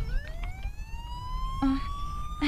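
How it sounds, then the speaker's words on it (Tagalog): Wailing ambulance siren rising steadily in pitch, heard at moderate distance outdoors with a couple of short horn-like blasts near the end, no talking. "May ambulansya lagi."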